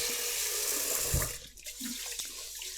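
Tap water pours strongly into a kitchen sink while raw chicken wings are rinsed, a close continuous rush that breaks off as the water is tossed away, followed by a few splashes and clinks.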